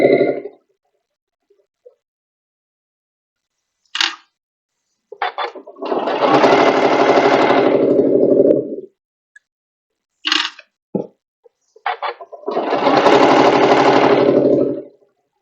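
Sewing machine stitching a cutwork pillowcase, two sustained bursts of rapid, loud close-up stitching separated by silence and short clicks or thumps of the mechanism, no talking.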